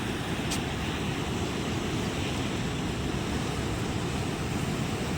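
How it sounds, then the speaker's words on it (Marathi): A flooded river surges with strong waves, heard as a loud, continuous roaring wash of rushing water, close and unbroken, with no talking. "जोरा जोरात अशा लाटा उसळू राहिल्या बघा"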